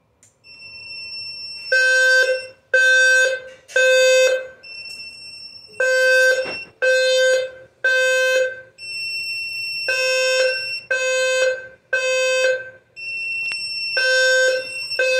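A fire alarm sounder base set up in a hotel-room supervisory configuration sounds loud, piercing electronic tone bursts, repeating in a steady on-off pattern with brief gaps, close and alone.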